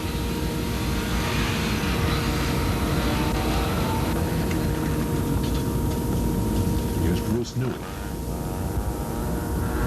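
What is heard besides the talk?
Mazda rotary engine race cars passing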